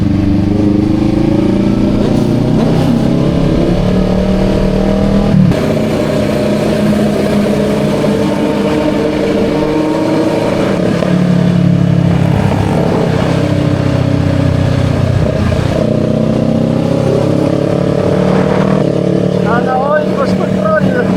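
A loud motorcycle with aftermarket headers runs close by, its throaty exhaust rising and falling in several revs over a steady idle.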